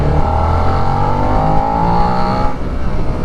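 Suzuki SV650 motorcycle engine held at steady high revs, a loud continuous droning whine that eases off slightly near the end, with no voices over it.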